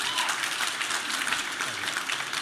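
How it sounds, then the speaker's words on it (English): Audience at a live panel discussion applauding steadily, a dense, even wash of many hands clapping at moderate distance with no talk over it. "You can clap for that."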